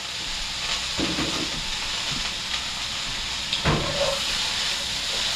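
Onions and peppers fry in bacon grease for homemade venison chili, giving a steady, loud hissing sizzle close up with a few soft knocks and stirring sounds.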